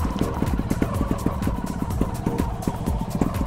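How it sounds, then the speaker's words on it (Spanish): A trial motorcycle's engine rumbles close by with quick throttle revs and a steady, pulsing idle beating throughout. "vamos a dar tres golpes de gas"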